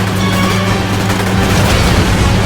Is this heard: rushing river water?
no